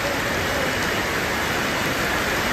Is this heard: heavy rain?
yes